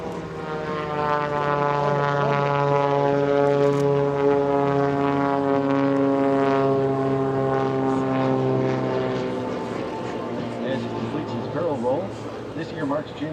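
A Bonanza propeller plane performing aerobatics at an EAA AirVenture airshow gives a loud, steady engine drone with a rising and falling pitch across the pass, fading slightly toward the end, heard alone without talk.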